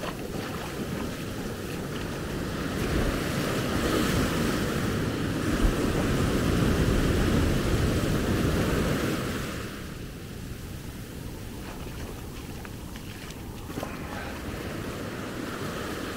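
Surf rolling in on the beach at Maspalomas, Gran Canaria, a steady broad wash of breaking water with wind noise across the microphone, swelling louder in the middle before easing back, with no voices.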